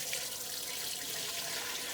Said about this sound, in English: So we're going to pour our broth through the strainer